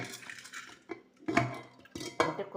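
Washed dal for tomato and cucumber dal dropped into a pressure cooker, with a few soft clinks and clatters of metal vessels and utensils, close and moderately quiet, in short bursts with pauses between.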